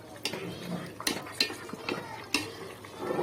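Meat curry being stirred in a pan, with a utensil scraping and clinking against the metal in irregular strokes, close and fairly quiet.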